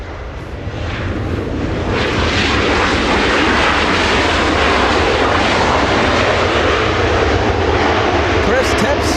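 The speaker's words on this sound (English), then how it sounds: "this Delta Airlines coming in from Seattle" A Delta Airlines airliner from Seattle comes in to land at Los Angeles International Airport, its engines a loud, continuous roar that builds slightly and then stays steady, with voices talking over it.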